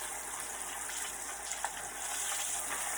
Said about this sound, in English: And these are going to bubble a little bit more because, you know, they had that water on them.